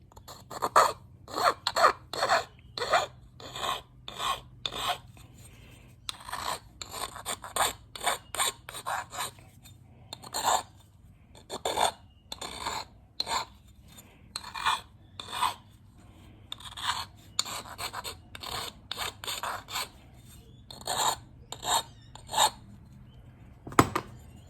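A file deburrs the lips of a Holden Grey motor piston: close, rhythmic rasping strokes in quick bursts with short pauses between runs, and no talk.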